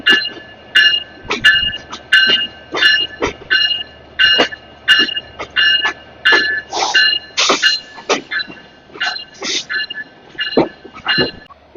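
An intercity express train rolling along, with a steady low rumble beneath a run of sharp, rhythmic tonal bursts repeating at close, even intervals.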